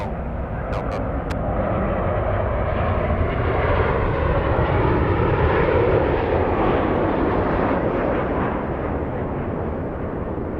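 Airliner jet engines roar at Los Angeles International Airport near runway 24 left, a steady, loud broadband rumble and whine that swells slightly and holds throughout, with no talk over it.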